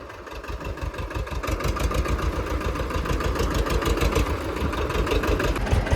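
A tractor engine idles steadily on a farm field planted with cotton, a loud, continuous low rumble with a fast regular throb that builds slightly and holds for several seconds, with no talk over it.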